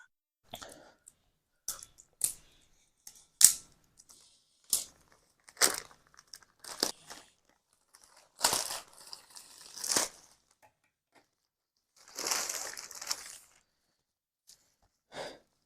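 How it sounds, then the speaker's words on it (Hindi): Packaging for a set of knives is torn and crinkled open by hand, with intermittent rustles, crackles and taps in separate bursts, close and fairly quiet, no talk. "तो अब इसे अनबॉक्स करते हैं।"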